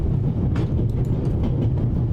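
A moving steam train crossing the Swiss Alps in The Raven adventure game gives off a steady low rumble and rattle with faint rhythmic clacks, continuous and fairly close.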